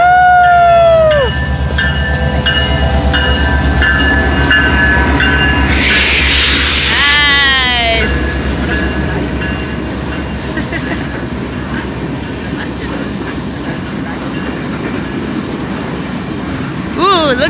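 The Canadian Pacific Holiday Train, a lit-up Christmas train, rolls past close by with a loud horn blast and a steady, heavy rail rumble, while people nearby talk and cheer.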